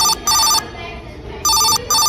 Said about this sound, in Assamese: পৰীক্ষাৰ আগদিনা হাৰ্দিকৰ ফোন আহিছিল।